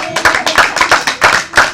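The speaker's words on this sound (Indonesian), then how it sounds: "Tepuk tangan, keren sekali." Close, loud hand clapping from a small group of students in a classroom, pulsing in a quick rhythmic pattern of bursts that lasts under two seconds.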